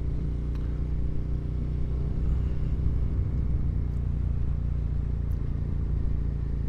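A Suzuki SV650 motorcycle ridden along a road in third gear, a continuous loud low engine rumble with steady wind and road noise throughout, no talk.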